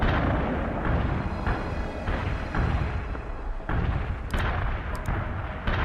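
Heavy artillery barrage striking enemy units in the real-time strategy game World in Conflict, heard as a dense, continuous rumble of overlapping explosions with sharper bursts toward the end, loud and sustained throughout.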